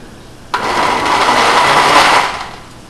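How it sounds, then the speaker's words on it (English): A blender starts abruptly and whirs loudly and steadily as it blends peaches, pineapple, pears and ice cream into a milkshake, then winds down, with no talking. "So we're going to go in with the blender. We've got to turn this on"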